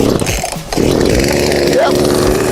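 Chainsaw cutting down a tree outdoors: a loud, close engine snarl that bogs and revs as the chain bites into the trunk, running continuously with its pitch shifting.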